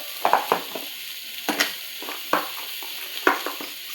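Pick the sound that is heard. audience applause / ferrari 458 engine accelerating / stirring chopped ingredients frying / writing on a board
stirring chopped ingredients frying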